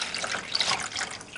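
Water poured into a Ninja Combi cooker, a close, steady rushing splash of liquid lasting about a second and a half.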